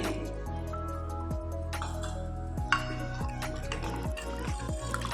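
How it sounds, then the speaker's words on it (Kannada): Water pours in a steady, gurgling stream into a rasam pot, with shifting bubbling tones as it fills, fairly close and moderately quiet. "ಇವಾಗ ನಾನೊಂದು ಎರಡು ಗ್ಲಾಸಷ್ಟು ನೀರು ಸೇರಿಸ್ಕೊತಾ ಇದ್ದೀನಿ"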